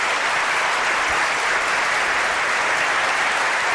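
An audience applauds the first guest at a talk event on paranormal mysteries, a dense, steady wash of clapping filling the whole stretch at even loudness with no voices over it.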